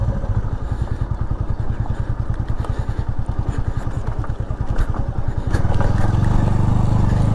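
A motorcycle engine thuds with a rapid, even pulse while riding on a steep slope, then swells into a louder, smoother drone near the end.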